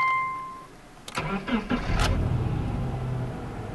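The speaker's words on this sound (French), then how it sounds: "Ils ont tendance d'allumer leur voiture" A car engine cranks over for about a second and catches, then settles into a steady idle up close on a winter day, with a voice heard over it.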